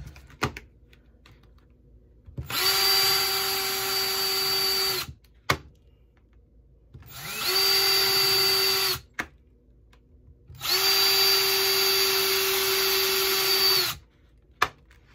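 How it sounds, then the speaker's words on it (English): A power drill whirs in three sustained bursts separated by short pauses, drilling holes in a pot resting on a piece of wood, loud and close, with a steady high-pitched motor whine. "put a piece of wood underneath, and what I do is I drill holes in"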